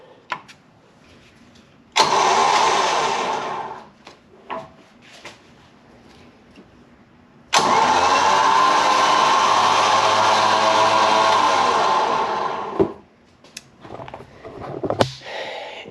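A Badlands Apex winch being installed runs in two steady bursts, about five seconds and then about five and a half seconds long, with a loud, even whine over a motor drone and short clicks and knocks between the runs.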